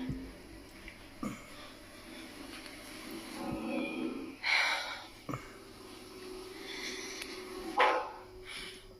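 A family dog barks and growls indoors, several short sharp barks spaced irregularly over a low rumbling growl, fairly quiet and distant-sounding.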